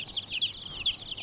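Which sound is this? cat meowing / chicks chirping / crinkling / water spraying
chicks chirping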